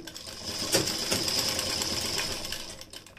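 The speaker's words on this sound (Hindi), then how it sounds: "ये जो कपड़ा है उसको इसके अंदर फोल्ड करते जाएंगे और सिलाई लगाएंगे।" A sewing machine runs a continuous line of stitching along a folded kurti side slit, a steady close whir with a few sharper clicks.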